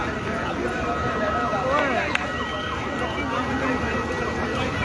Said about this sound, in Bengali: এই মুহূর্তে আমরা ফায়ার সার্ভিসের আওয়াজ শুনতে পাচ্ছি